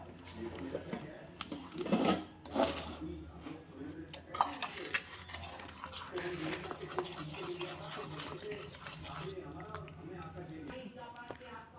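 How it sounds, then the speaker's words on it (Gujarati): Semolina dhokla batter being mixed after a few spoons of water go in, with soft, quiet spoon scrapes and clinks against the bowl while a voice talks over it. "હવે આપણે બધું જ મિક્સ કરી દઈશું"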